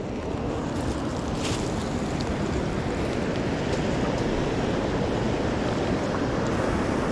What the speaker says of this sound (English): But that is Dix Creek Falls.